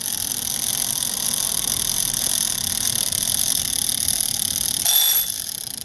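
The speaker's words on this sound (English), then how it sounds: "I gotta show you the Sex Panther timer and give that a 10-second time, just so you can hear what it can really do" A Sex Panther novelty timer set for ten seconds sounds off with a steady, high electronic ringing tone that holds for several seconds, then briefly shifts pitch near the end, fairly loud and without voices.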